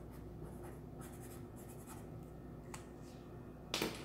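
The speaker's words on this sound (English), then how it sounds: "But I'm going to draw bears down below." A marker squeaks and scratches across paper while simple bears are drawn, soft and close, in short separate strokes with brief pauses between them.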